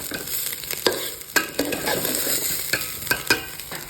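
Rice fries in a pan for pulao, stirred repeatedly so grains scrape and rattle in a steady frying hiss, with regular sharp scraping accents close up and no voices.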